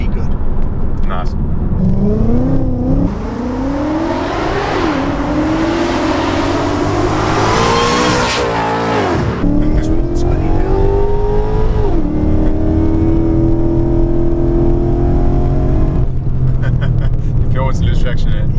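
A supercharged widebody Mustang accelerates hard with its rear wheels spinning, the loud engine note climbing and dropping through several surges of revs and tyre scrabble, with people talking over it.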